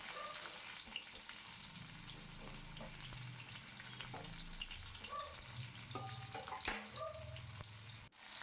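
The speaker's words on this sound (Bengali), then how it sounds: "এবার বাদ বাকি তেলে আবার তেল দিয়ে এক্সট্রা পটলগুলো দিয়ে দিলাম" Pointed gourd (potol) sizzles in hot oil in a pan, a steady bubbling crackle with occasional stirring clinks and scrapes, close and moderately quiet.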